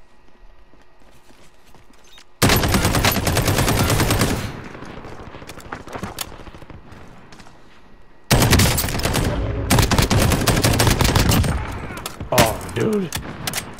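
Gunfire in the Call of Duty Warzone (Modern Warfare) battle royale, with sniper shots among it: two loud, dense bursts a few seconds apart, each lasting several seconds, and a man briefly exclaiming near the end.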